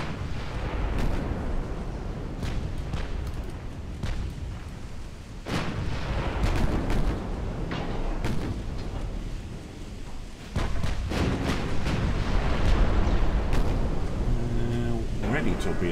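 Battleship 6-inch guns fire in a naval video game, with heavy booming blasts rolling over a constant low rumble of engine and sea noise, a loud burst near the middle and a stronger salvo toward the end; a voice talks throughout.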